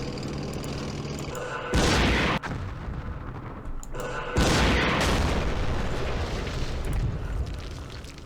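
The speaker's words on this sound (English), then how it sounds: "Mortars." Mortar fire in a Vietnam War strategy game set during the Battle of Hue, two heavy booming blasts, each followed by a long rumbling decay over background battle noise.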